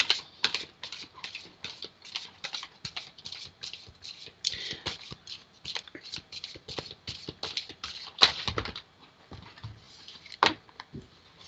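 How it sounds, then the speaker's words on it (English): Rapid, continuous flicking and riffling of tarot cards being shuffled, a crisp patter of light clicks at close range with a few sharper snaps near the end. "I'm going to continue to shuffle."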